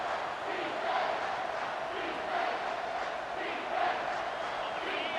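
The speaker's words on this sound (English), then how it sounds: "Here comes this home crowd as the defense tries to get off the field on 3rd down." A home crowd roars in a stadium during a college football video game, a steady, distant mass of crowd noise with faint surges of chanting and yelling.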